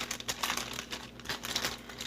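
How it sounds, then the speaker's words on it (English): A Ziploc bag of shredded cheese is pressed to push the air out, making close, soft plastic crinkling in uneven bursts with no talking. "put it in the Ziploc bag, push it down to push all that air out"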